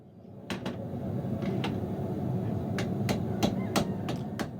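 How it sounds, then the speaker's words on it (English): Light, gentle hammer blows flatten a Freedom horseshoe on an anvil, roughly nine sharp ringing strikes spaced at an uneven rhythm over a low, steady background hum. "as I'm ironing it out just with light gentle blows, I'm bringing my shoe back to flat and level"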